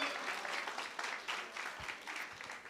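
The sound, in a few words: applause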